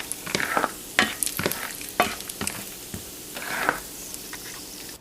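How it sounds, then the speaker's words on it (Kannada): Peanuts roasting in a little oil in a pan for gojju avalakki, with close, loud crackling sizzle and scraping stirs pulsing through the whole stretch, no voices. "ಸ್ವಲ್ಪ ಎಣ್ಣೆ ಹಾಕಿ ಕಡಲೆಕಾಯಿ ಬೀಜನ ಹುರ್ಕೊಳ್ಳಿ."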